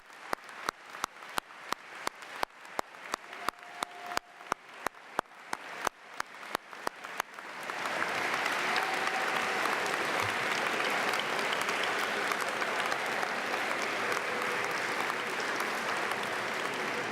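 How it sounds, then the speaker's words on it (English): At a Duke University economics graduation, a few isolated claps are heard at first, then the audience bursts into sustained applause and cheering for the staff, filling the room at a fairly distant level. "So let me give one loud cheer for the staff."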